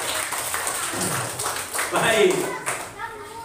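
Primary-school children in a fifth-grade classroom clap for a group, a scattered burst of hand claps mixed with the teacher and kids talking over it.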